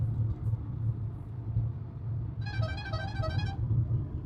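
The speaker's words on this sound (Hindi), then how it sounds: "ये ऑटो है। ऑटो की आवाज़ थी।" An auto rickshaw horn on a crowded highway gives one sustained honk of about a second over the low rumble of traffic and a moving car's engine.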